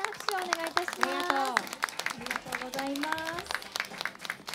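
An audience at a live concert by a duo at Tokyo Tower applauds after the performance, a moderate, continuous patter of many hands heard under voices talking over it.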